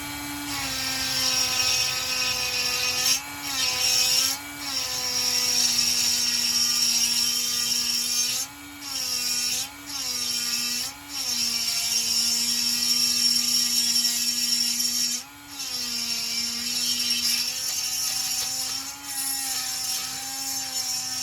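Rotary handpiece with a fast-cut bit porting a Husqvarna 288XP chainsaw cylinder, a sustained high whine held steady for long stretches, with brief dips where the tool eases off, close and loud with no talking.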